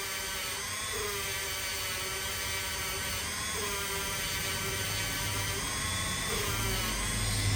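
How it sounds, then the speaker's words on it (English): A power sander sands wood on an antique floor lamp table, running steadily with a continuous buzzing whine, its pitch dipping slightly every few seconds as it works across the surface. "It's just sanding it nice and smoothly and getting all the yuck off."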